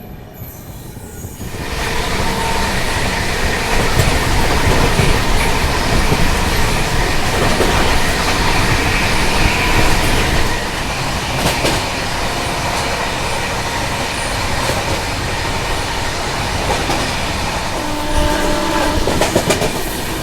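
A Rajdhani Express speeds along the line while overtaking the Mahakaushal Express on a parallel track, heard from inside as a loud, continuous rumble of wheels with clattering joints, squeals and a horn note over roughly twenty seconds.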